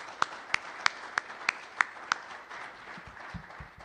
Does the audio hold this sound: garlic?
no